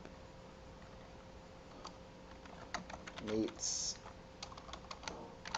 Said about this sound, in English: We type this